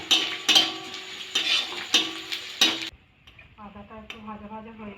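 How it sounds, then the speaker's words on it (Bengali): Ginger frying in a pan, with a run of close, scraping stirs and clinks of a utensil in the first half, then a quieter, steady sizzle. "আদাটা একটু ভাজা ভাজা হয়ে গেছে,"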